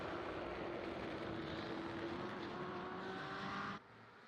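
Race cars roar past at high speed on the long Mulsanne straight at Le Mans in a sim racing game, a sustained engine drone that cuts off abruptly near the end.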